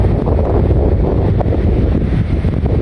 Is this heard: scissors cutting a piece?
no